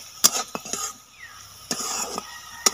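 Onions being added to hot oil for a rural Santali fish curry, with a few sharp clatters and scrapes of a utensil stirring in a pan over a soft background sizzle; no talking.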